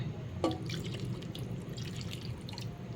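A little water trickles and drips into a pot of milkfish paksiw, with a small splash near the start followed by scattered light drips and liquid patter over a low background hum.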